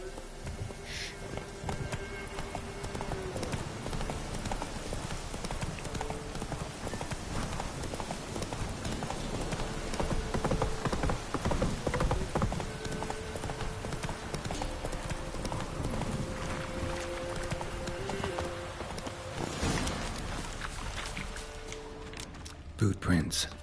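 Rapid galloping hooves of a horse in The Witcher 3, a dense, loud, continuous drumming rhythm with a voice speaking over it.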